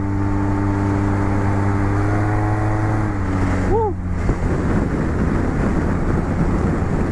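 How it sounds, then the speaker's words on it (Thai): Wind roars against the rider while a Yamaha Tmax 530 DX scooter cruises, a loud steady rush over a low engine drone, with a brief chirp and tonal shift midway. "ไปต่อลมมันแรงครับ"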